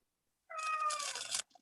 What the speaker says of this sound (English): Oh, there's a kitty cat.